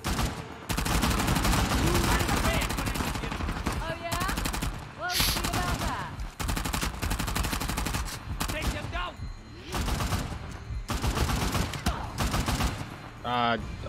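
Sniper and automatic gunfire in Uncharted: The Lost Legacy, dense and loud, with bursts repeating through the stretch and voices talking over the shooting.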